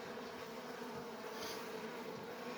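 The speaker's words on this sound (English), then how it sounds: "This bee really likes me." Honeybees from a wild hive in an abandoned house buzz continuously around the listener, a steady close drone with no talking.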